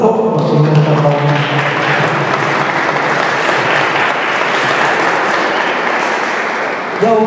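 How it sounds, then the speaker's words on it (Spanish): A congregation applauds in church during a baptism Mass, with dense, steady clapping lasting several seconds after a brief spoken voice at the start, then fading at the end. "Les damos un fuerte aplauso, Señor Pablo."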